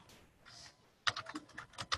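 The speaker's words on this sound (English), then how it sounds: "if I type TCP" A computer keyboard is typed on up close: a quick burst of sharp key clicks fills the second half after a quiet start, with no talking.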